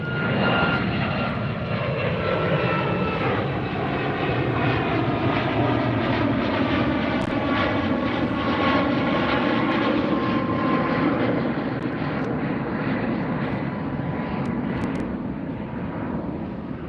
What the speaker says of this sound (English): So that was Southwest flight 3495 headed to Honolulu, Boeing 737 MAX 8.